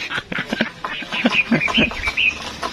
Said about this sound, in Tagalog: Ang ganda ng tulungan ng ibon, no?